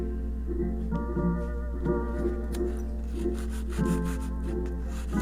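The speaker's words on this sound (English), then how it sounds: "Sand it just a little bit." Body filler on a piece of Art Deco furniture being sanded by hand: repeated soft rasping strokes in a steady rhythm, fairly faint, over a low electrical hum and faint tonal background.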